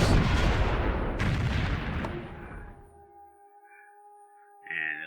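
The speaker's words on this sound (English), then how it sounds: "We got artillery. They're going to bombard Pyongyang." Artillery shelling Pyongyang in the video game Civilization III: a loud, booming burst of cannon fire that decays over about three seconds, followed by quiet game tones and a brief chime.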